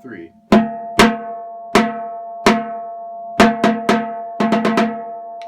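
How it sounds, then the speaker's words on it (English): Third bass drum in a high school drumline playing its part of a bass drum cadence: a series of sharp, ringing single strikes with long decays, spaced at first, then quicker clustered hits near the end, close and alone. "You're auditioning for that C line, that third bass drum. Sounds like this."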